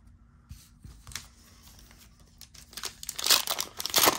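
A foil booster pack from a Flesh and Blood Outsiders trading card box is torn and crinkled open close by, the crackling growing louder and busier toward the end.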